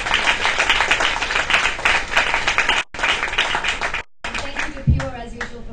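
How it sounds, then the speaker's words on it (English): Audience applause at a social media meetup, a steady wash of many hands clapping close and loud, briefly cut off twice before a final stretch that thins out. "Big round of applause for everybody."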